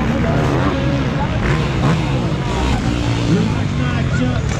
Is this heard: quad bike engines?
yes